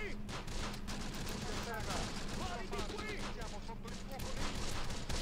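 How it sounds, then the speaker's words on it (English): Gunfire in the Close Combat video game: sustained, dense rattling volleys of rifle and machine-gun fire with distant crackling shots, sounding continuous and loud throughout. "Still under heavy fire, even at range."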